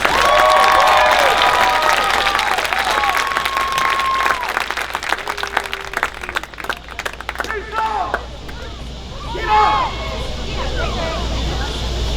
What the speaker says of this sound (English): Let us give row 5 a round of applause.